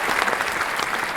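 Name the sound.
audience applause for the winning team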